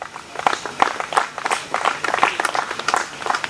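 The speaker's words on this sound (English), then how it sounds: "I thought you'd clap louder." An audience at a university alumni association campus launch claps in scattered, uneven bursts, moderately close, with individual hand claps standing out.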